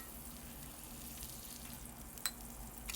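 Ground pork frying in a wok until golden brown gives a steady, close, quiet sizzle with a few soft stirring clicks, and no voices over it.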